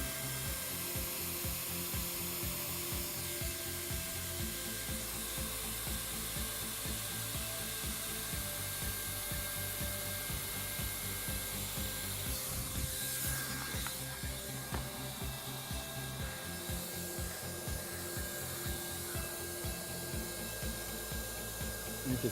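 Hot air welding a seam after routing, a steady loud blower-like roar with a constant mechanical hum running throughout, close and uninterrupted.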